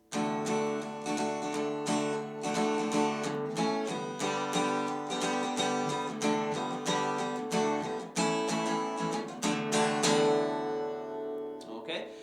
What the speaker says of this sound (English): So the instrumental at the end of the chorus should sound like this.